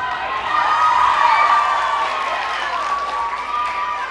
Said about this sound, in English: if all of you young people are clapping like that